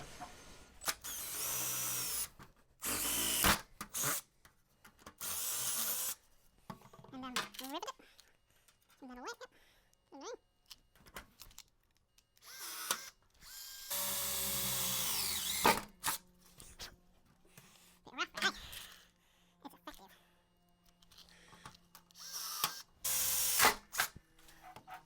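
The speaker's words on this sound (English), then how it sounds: "So I'll probably drill this in" Power drill boring rivet holes through stainless steel sheet while fitting an old air conditioner in a shed, heard as several loud bursts of whining drilling separated by pauses, with someone talking in between.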